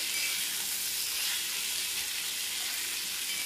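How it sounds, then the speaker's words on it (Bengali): Chopped yardlong beans frying with spices in a pan, giving a continuous dense hiss of sizzling oil, close and steady, with no voices. "বরবটিটা দিয়ে ভালো করে মশলাটা দিয়ে ভালো করে কষিয়ে নিতে হবে"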